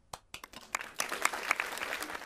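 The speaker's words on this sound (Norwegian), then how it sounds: "Så, applaus til han." Scattered claps build into a thin round of applause for Norwegian director Kristoffer Borgli, faint and sparse at first, then a denser patter from a small group.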